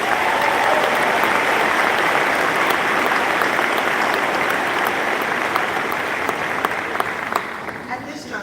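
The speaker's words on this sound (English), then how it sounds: "Let's give him a round of applause." Sustained applause from a large audience at a ceremony honouring Felix, a dense, loud wash of clapping that holds steady for several seconds before easing slightly at the end.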